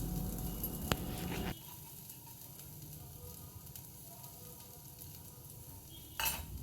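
Dry spices sizzle steadily in a frying pan, joined by a clank at the start and a light stir near the end, the frying hiss holding even throughout.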